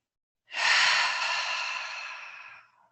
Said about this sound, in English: Perhaps you take one cleansing breath in and out with me.